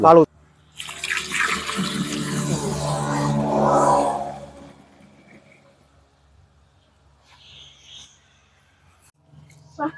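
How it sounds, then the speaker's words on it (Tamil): Water pours steadily into a clay pot for a few seconds with a rushing splash, then stops, leaving near silence and a few faint clinks. "தண்ணி ஊத்திக்கலாம்."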